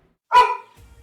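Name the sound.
dogs barking loudly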